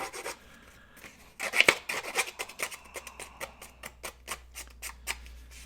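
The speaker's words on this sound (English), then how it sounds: "And I just take my scissors and do like that." Scissors scrape repeatedly along the edge of a paper card to rough it up, giving a quick run of close, crisp rasping strokes in a steady rhythm, with no talking.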